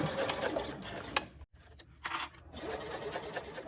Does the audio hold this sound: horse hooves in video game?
no